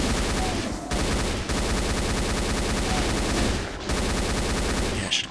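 Sustained gunfire from enemies in the video game Doom on a tropical map, a dense, loud rattle of shots that keeps going with two short breaks.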